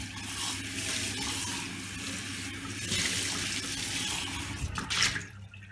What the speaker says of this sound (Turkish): isterseniz şöyle bir musluk suyunda biraz yıkayayım